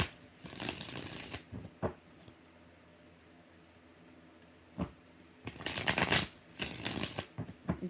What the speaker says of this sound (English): Let's give Aaron 6 shuffles.